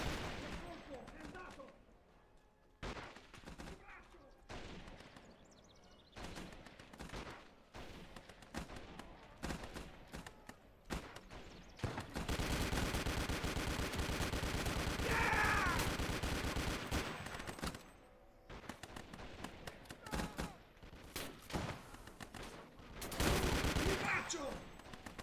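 Sustained gunfire rattles through a battle in the Gates of Hell video game's Italian campaign: scattered shots, then long dense bursts of machine-gun and rifle fire that rise loud and fall back.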